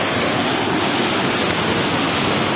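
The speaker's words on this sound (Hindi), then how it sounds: "आपको झरने के पास ले चलूँगा।" Dhareshwar waterfall near the Dhareshwar temple in Khargone, Madhya Pradesh, pours in a steady, dense roar that fills the whole short stretch without pause or voices.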